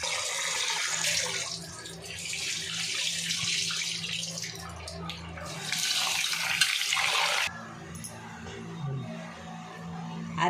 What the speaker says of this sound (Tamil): நல்லா கழுவிக்கலாம் 2-3 தண்ணி.